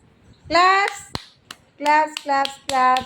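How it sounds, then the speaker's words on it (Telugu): A few sharp, isolated hand claps ring out in a nursery classroom between bursts of children's voices answering a lesson. "క్లాప్స్"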